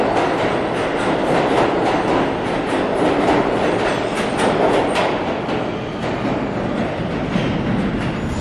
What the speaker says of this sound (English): There goes the train behind me.